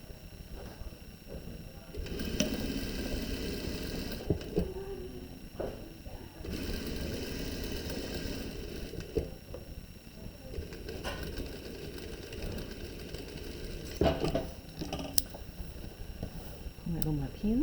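Sewing machine stitching a princess armhole seam with a 1 cm seam allowance, running in steady bursts with short pauses, while a person talks over much of it.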